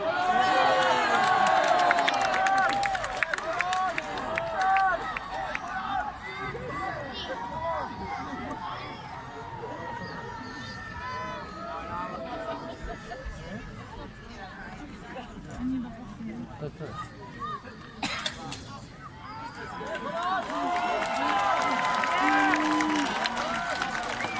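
A crowd at a gladiator show in the Pula arena shouts and cheers in a dense, continuous roar of many voices, with louder swells at the start and end and nearby people talking through it.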